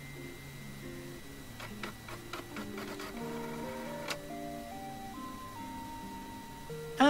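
A video game printer prints out a job application with a mechanical, tune-like run of stepped tones and ticking clicks, steady and close with no talk.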